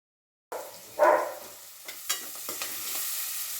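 Beans frying in hot oil with a tempering of spices in a home kitchen, a loud sizzle bursting up as they hit the pan, then steady crackling with a few stirring clatters.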